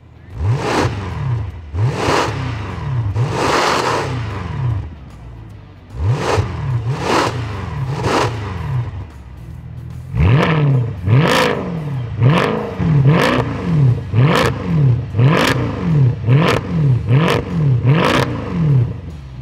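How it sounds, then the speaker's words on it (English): Repeated hard revs from a 2014 Mercedes C63 fitted with an FI aftermarket exhaust, a loud rising-and-falling engine note in quick bursts, close by, with no talking. "We just put on my FI exhaust not too long ago and we're gonna give you some sound clips, revs, and some flybys."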